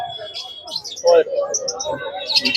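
Exotic pet birds chirp and tweet in a cage collection at a Serampore pet market, with scattered high calls and trills overlapping across the clip alongside brief talk.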